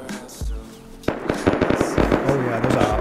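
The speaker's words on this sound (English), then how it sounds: "There's some serious gunfire going on over here." Gunfire rattles in the survival video game Rust as rapid, sharp cracks in a dense burst following a louder opening shot, with someone talking over it.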